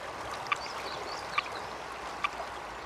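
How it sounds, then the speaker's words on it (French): A small stream runs through Siberian forest, a soft steady trickle and gurgle heard quietly, broken by three short, sharp clicks spaced evenly apart. "au-delà de ce petit ruisseau"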